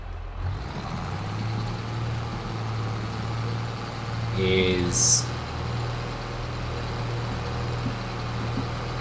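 A truck in Farming Simulator 22 idles with a steady low engine drone throughout, and a brief high reversing beep sounds midway, while someone talks over it.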